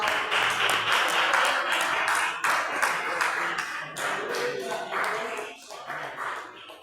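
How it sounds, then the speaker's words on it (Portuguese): A church congregation claps in steady rhythm during a Portuguese-language worship service with Holy Communion. The continuous clapping sounds full and room-filling, with a voice speaking over it. "e as palmas que glorificam"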